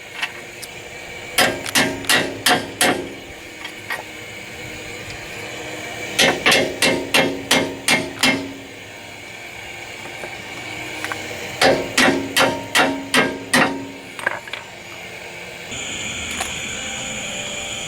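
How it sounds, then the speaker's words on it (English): Metallic hammer taps on a socket over a bolt in quick bursts of about five to seven strikes, separated by pauses, close and ringing, with no talking, during Ford Windstar control arm work. "put the socket back over it and tap it in with the hammer"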